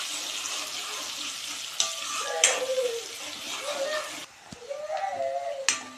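Chopped onion sizzles in hot oil with asafoetida as it is stirred in a pan, giving a close, steady crackle with scraping strokes and a brief dip, while a voice briefly murmurs over it.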